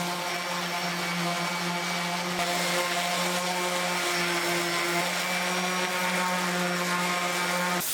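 Power sander working over a large routed wooden driveway sign painted with black primer, a steady loud droning whir that runs continuously without pause and with no speech.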